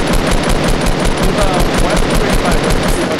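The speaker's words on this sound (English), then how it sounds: "No, I'm just shooting Ray" Rapid automatic gunfire from the video game Fortnite rattles loud and close in a dense, continuous burst.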